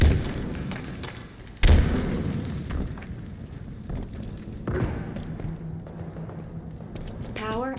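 A grenade goes off in Halo Infinite multiplayer as a sudden heavy thud that rolls into a rumbling blast, followed by a second softer boom and a brief game announcer voice near the end.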